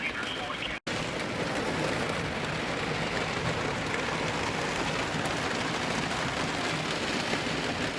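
Steady, dense rain from a thunderstorm hissing continuously, with a brief dropout near the start and a low rumble underneath.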